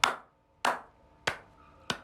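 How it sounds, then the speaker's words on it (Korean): Four slow, evenly spaced claps in unison from a church congregation during a Sunday service, each a sharp crisp smack with a quick decay and brief silence between. "중간 박수 시작."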